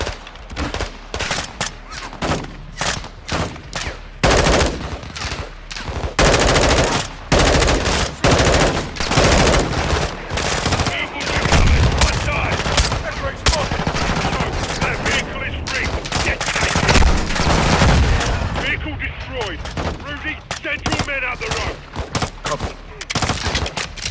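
Sustained automatic gunfire and bursts of cover fire in a Call of Duty: Modern Warfare 2 campaign battle, loud and nearly continuous for the full stretch with dense overlapping shots and brief pauses, a faint voice occasionally under the fire.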